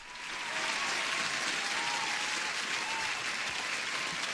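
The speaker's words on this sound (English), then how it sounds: "Sam, I need to give you an applause." Applause sound effect swells in within half a second to a dense, steady clapping of many hands that holds at full level throughout, with no talk over it.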